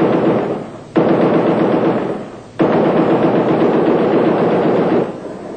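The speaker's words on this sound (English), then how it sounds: "The attack continued until the army replied with 340 rounds from their chain guns." Sustained bursts of chain gun fire from armoured army vehicles during a 1993 attack on a monastery, loud dense rapid rounds in long strings with two brief pauses, no talk.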